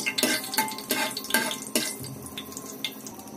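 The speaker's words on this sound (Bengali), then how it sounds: "মরিচটা হালকা লাল লাল করে নিতে হবে, আর তেজপাতাটাও তেলে ভেজে নিতে হবে" Dried chili and bay leaf frying in hot oil in a pan, with several sharp metallic spoon scrapes and clinks against the pan over a soft sizzle, close and moderately loud, with no speech.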